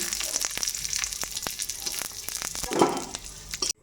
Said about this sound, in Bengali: আর একটু ঘি দিয়ে দিলাম ঘি দিয়ে দিতে আমি কিশমিশটা ভেজে নেব একটু